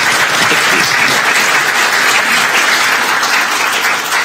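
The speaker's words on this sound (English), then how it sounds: "let's give our speaker another round of applause." Dense, sustained applause from a lecture audience fills the room at a steady, loud level for the whole stretch, without talk over it.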